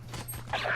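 Weapon reload in Valorant, a short mechanical sequence of clicks and metallic slides lasting under a second, sitting over a steady low in-game hum and close to the listener.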